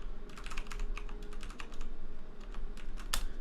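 Fast, light keystrokes on a computer keyboard in quick bursts with brief pauses, close and fairly quiet over a low steady hum, no voices.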